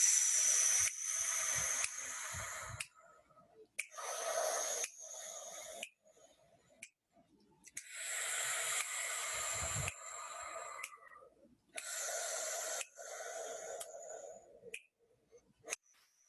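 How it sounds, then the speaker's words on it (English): Slow, relaxed breathing in and out for a woodwind warm-up, long airy breaths alternating with short pauses, close and fairly loud, each inhale and exhale lasting a second or two. "So let's start with some breathing, shall we?"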